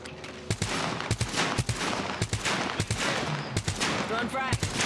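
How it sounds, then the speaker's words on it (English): Rapid bursts of grenade-launcher fire from a knuckle cluster weapon in a competitive shooter video game, loud repeated thumping blasts in quick succession with faint voice chatter underneath. "Launching me knuckle cluster."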